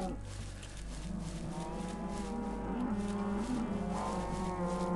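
A cow mooing in Minecraft, a long low drawn-out moo that swells and wavers over a faint steady background hum, heard alone and at moderate distance.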